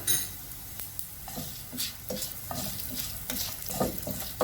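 Fenugreek seeds frying with browned garlic and ginger in a pan, stirred with repeated scraping strokes over a steady sizzle, close and fairly quiet with no talking.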